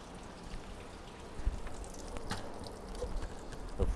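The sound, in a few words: water poured over a Nissan Frontier truck battery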